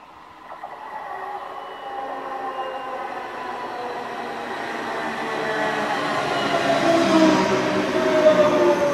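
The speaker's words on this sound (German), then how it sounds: "Und da kommt schon die S-Bahn, mit der ich in Richtung Hannover weiterfahre." A German S-Bahn commuter train approaches and pulls in, its rumble and rising wheel squeal growing steadily louder, with no voices.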